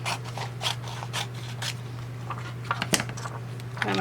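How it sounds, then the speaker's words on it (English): Scissors snip through a sheet of blue photosensitive stencil film in a few quick, close cuts, with light crinkling and handling noise against a steady low hum. "And I'm going to cut it."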